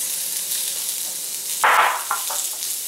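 Red onions hit hot avocado oil already spitting with cumin seeds, a steady crackling fry that bursts into a brief loud sizzle partway through, then settles back to a softer hiss, with no voices.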